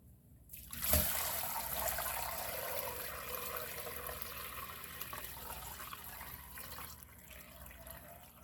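Milk for homemade yogurt pours steadily into a container, a soft continuous trickle that begins abruptly with a brief splash and runs on alone at moderate level.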